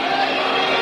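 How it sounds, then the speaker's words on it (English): An ice hockey arena crowd at a Sweden versus USSR world championship game yelling for a penalty, a broad, sustained roar filling the whole brief moment. "The crowd yelling for a penalty as Kravchuk put the grab on Rundqvist"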